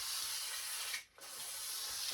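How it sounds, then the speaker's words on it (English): Wood finish lightly sanded between coats with sandpaper: a soft, continuous hissing rub, faint and close, with one brief pause midway. "take a bit of sandpaper and give everything just a little tooth"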